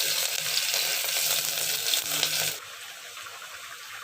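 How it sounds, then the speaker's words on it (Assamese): Onions and bay leaves fry in a pan with a strong broadband hiss that drops abruptly to a softer sizzle partway through, with no voices. "দি দিছোঁ তেজপাত কেইখিলা আৰু এতিয়া মই ইয়াতে দি দিম পিঁয়াজখিনি"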